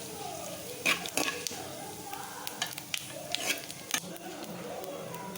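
Crushed fennel seeds fry in hot oil with a soft sizzle, and a spoon scrapes and stirs in the pan in short bursts. Faint background talk sits underneath.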